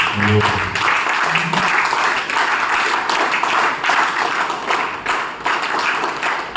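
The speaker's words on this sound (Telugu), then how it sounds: "మీకోసం మీరు ఒక్కసారి చప్పట్లు కొట్టుకోండి" A crowd claps steadily throughout, a dense continuous patter of applause that stays loud from start to finish.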